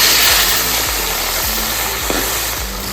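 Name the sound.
katla fish frying in hot oil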